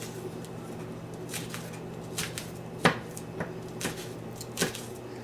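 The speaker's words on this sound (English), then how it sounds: "I'm just finely chopping these. So there's a good mix of the green onion in the quinoa salad" Knife finely chopping green onion for a quinoa salad, a few scattered sharp taps on a cutting board at uneven intervals, fairly quiet, no talk.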